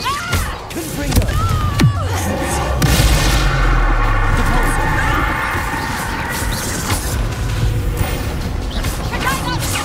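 Confringo blasting spell in Hogwarts Legacy, a loud booming explosive impact with crackling debris amid continuous dense combat noise, with voices shouting over the clash.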